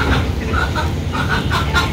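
Chickens, roosters and hens, call and cluck repeatedly in a rural yard, the close, overlapping calls continuing steadily throughout.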